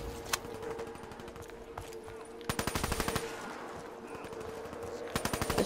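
Automatic weapon fire in Call of Duty Black Ops III zombies mode crackles in several rapid bursts of rattling shots with short gaps between them, fairly quiet overall and without talk.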